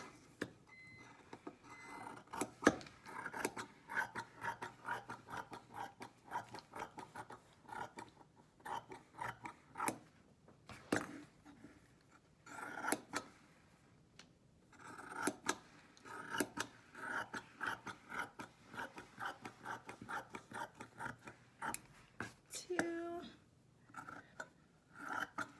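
Repeated crisp snipping of scissors cutting strips of fabric, close and clear, in short bursts with brief pauses between cuts.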